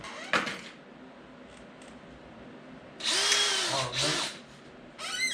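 A power drill with a 16-inch bit whirs in short bursts while drilling a fishing lure body, its motor pitch rising and falling, with a few clunks and knocks between runs.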